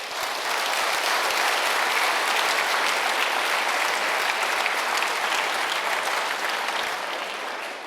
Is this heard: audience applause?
yes